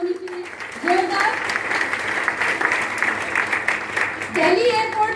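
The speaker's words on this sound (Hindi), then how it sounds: "एक बार बाली सर के लिए जोरदार तालियां होनी चाहिए, जोरदार" An audience bursts into loud applause for a speaker, with continuous clapping over a few seconds and a voice heard speaking briefly before and after it.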